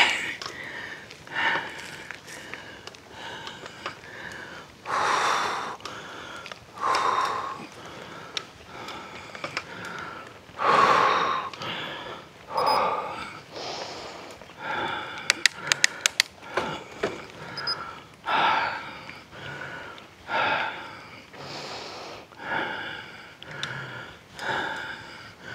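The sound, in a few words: heavy panting breath while hiking uphill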